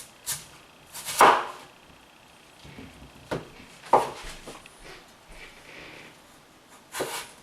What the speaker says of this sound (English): chop the potato into long, super thin as you can, slices, and then chop the slices into little strips